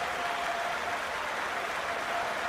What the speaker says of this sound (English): Great response from the crowd here in Southampton